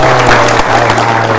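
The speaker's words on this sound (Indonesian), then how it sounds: "Kita beri tepuk tangan untuk RRI." Loud, dense applause from a large crowd, close and continuous with a faint hum beneath it.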